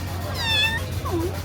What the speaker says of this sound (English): oh, hi, little kitty.